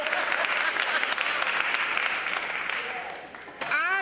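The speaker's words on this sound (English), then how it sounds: "that's applause." An audience at a women's community event applauds steadily, a broad wash of clapping that eases off near the end as a voice begins speaking over it.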